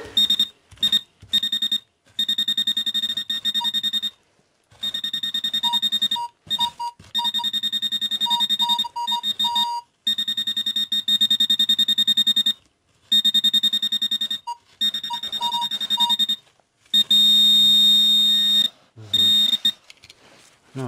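A metal detector sweeping over an attic floor while hunting for treasure gives off a steady electronic tone that cuts in and out in repeated beeps of uneven length, clear and close for the whole stretch.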